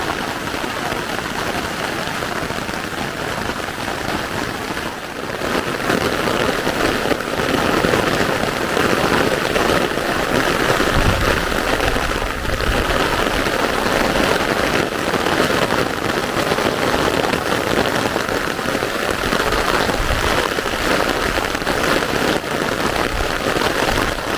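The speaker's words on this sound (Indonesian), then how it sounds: "Gede banget hujannya." Heavy rain falls steadily on a misty, darkening forest, a dense unbroken roar of drops close by that swells slightly after the first few seconds and continues throughout.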